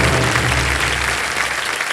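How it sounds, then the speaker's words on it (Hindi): Studio audience applause on a quiz show stage during a Ganesh Chaturthi episode, a loud, continuous wash of clapping that holds steady before easing slightly at the end, with no talk over it. "और तालियां बजते रहें इनके लिए।"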